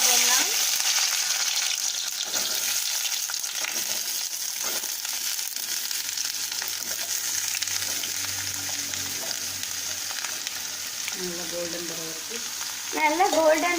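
About a kilogram of onions fries in hot oil in a pan for fish gravy, giving a steady, fairly loud sizzle throughout, with stirring scrapes and faint voices near the end.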